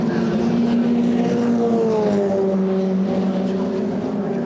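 BRDC Formula 4 single-seater race cars at Snetterton circuit, engines screaming at high revs as they run close together, steady and loud with rising and falling pitch, a commentator faintly under the roar.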